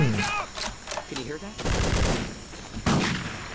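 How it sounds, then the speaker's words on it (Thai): Gunfire in the Vietnam War shooter game Vietcong: loud bursts of rapid shots crack out in two main volleys, with a voice talking over the earlier part. "อ้าวอีปืนเขาแรงนะครับหนึ่งนัดหนึ่งศพ"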